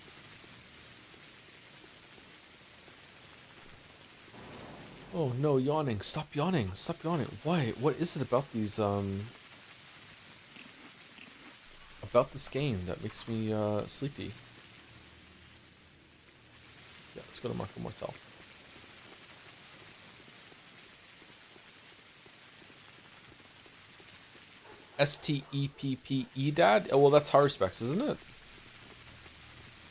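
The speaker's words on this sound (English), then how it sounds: "The rain actually is kind of soothing" Steady, soft rain falls throughout in the video game Pathologic, a constant hiss beneath someone talking in short bursts with pauses between.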